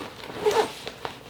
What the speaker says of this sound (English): And these zippers are pretty heavy duty.